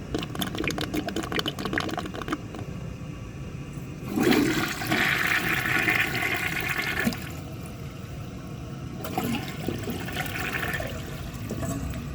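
A clogged 1939 Standard Modernus toilet is flushed. A strong rushing surge of water is heard close up, then a gurgling refill that tapers off and swells again over steady background noise.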